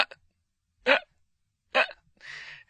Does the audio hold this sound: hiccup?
yes